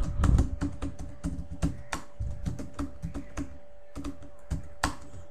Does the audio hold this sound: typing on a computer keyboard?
yes